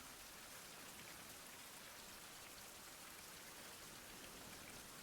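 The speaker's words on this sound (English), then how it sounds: "It's raining." Steady rain falls in a survival video game, a dense continuous hiss of drops on surfaces at an even level throughout, with no talk.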